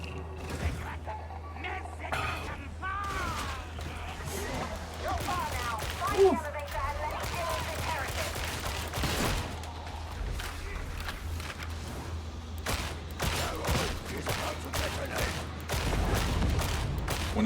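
Lasgun fire in Warhammer 40,000: Darktide crackles in scattered bursts through a busy game mix of hums and clatter, with voices talking over much of it.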